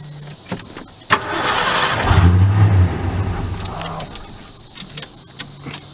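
A broken 1989 Ford F-150 with an unusual push-button ignition: a sharp click, then the engine cranks and catches with a loud rising roar before easing back into a rough, quieter idle.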